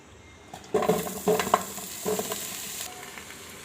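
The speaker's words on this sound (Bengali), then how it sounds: "এ পর্যায়ে হালকা একটু তেল দিয়ে ভেজে নেব" Eggplant sizzles in oil with a few short bursts of stirring and spatter, loud and close, fading to a quieter hiss.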